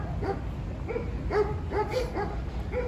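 Several shepherd dogs bark and yip in short bursts over a constant low rumble of background noise, moderately distant, in Maçka Park.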